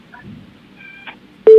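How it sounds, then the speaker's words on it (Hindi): Electronic phone-line tones sound after a call disconnects during a live phone-in: a few short, faint beeps, then a loud steady tone cuts in at the very end. "फोन डिस्कनेक्ट हो गया लग रहा है"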